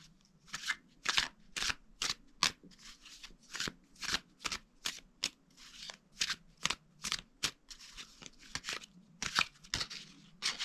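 A deck of oracle cards is riffled and shuffled, with repeated crisp bursts of flicking card edges in an irregular rhythm, close and fairly quiet, with no voices.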